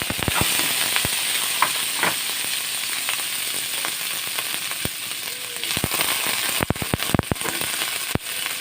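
Beans frying in hot oil with garlic give a steady, close sizzle with crackling pops and occasional stirring clicks, continuous throughout.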